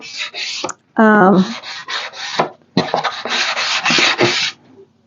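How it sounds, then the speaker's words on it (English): Sandpaper rubs briskly over the edges of wooden eggs in repeated close, raspy strokes, broken by one short squeaky pause. "So I'm going to do some of these edges, and I think I need a stronger sandpaper."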